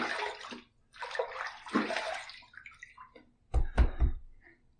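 A shaving razor is rinsed under running water in short splashing bursts, followed by a few sharp taps and knocks near the end, close by, with no talking.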